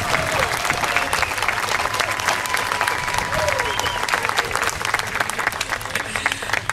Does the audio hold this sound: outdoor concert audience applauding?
yes